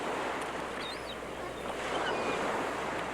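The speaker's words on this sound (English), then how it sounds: "Those seagulls sound like they're fighting for food." Seagulls calling over waves on a beach, a few faint, high wavering cries above a steady loud roar of surf and wind.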